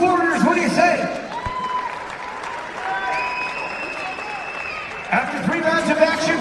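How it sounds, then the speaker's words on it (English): Crowd applause for two kickboxers after a bout in Dubai, a broad clapping wash running under an announcer's amplified voice and ringside sounds, fairly loud and steady throughout. "a round of applause for these 2 warriors"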